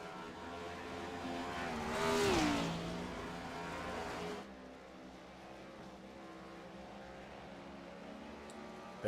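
Race cars circling the Bristol dirt track, engine drone swelling as a car sweeps past close by, then settling into a steadier, more distant roar of cars on the oval.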